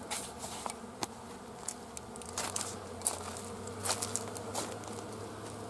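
Honeybees buzz in a steady drone around a beehive entrance as winter preparations go on, with clicks and small knocks scattered above the hum and no talking.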